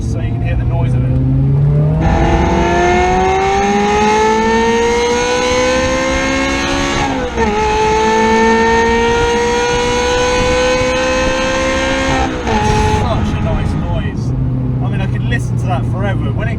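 A Ferrari 355 engine revving hard under acceleration, a loud, close, rising howl climbing through the rev range in long pulls with brief dips at gear changes, someone talking over it at times.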